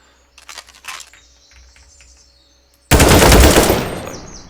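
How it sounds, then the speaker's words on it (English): An automatic rifle fires in a video game built in a game engine: a few scattered shots come first, then a sudden loud, sustained burst of rapid fire that slowly tails off, with no voices over it. "It's just a basic automatic rifle. If I hold down the trigger, it will fire multiple shots"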